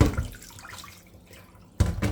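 Callaloo leaves being rinsed under a running kitchen tap, a loud splash of water that fades, goes quiet, then bursts back in strongly near the end.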